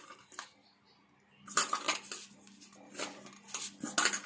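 Dough for karjikayalu being mixed in a bowl: intermittent clinks and scrapes of a utensil against the bowl in short bursts, close, separated by quiet gaps, with no voices.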